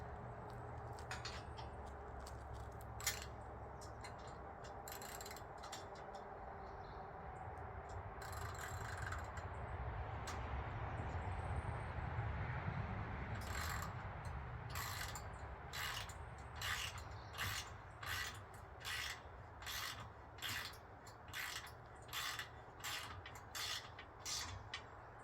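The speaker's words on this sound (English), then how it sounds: "and here is our wrench" Ratchet wrench snugging bolts down on a set of boat steps: a run of quick, evenly spaced clicks near the end, over a rubbing, rasping bed of handling noise, close and moderately loud.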